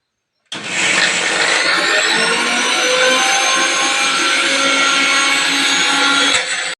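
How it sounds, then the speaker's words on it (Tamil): A kitchen blender grinds tomatoes and curry leaves, starting abruptly and running at a loud, steady whine for about six seconds before cutting off. "தக்காளியை 2 சேர்த்து அரைச்சிக்கலாம்."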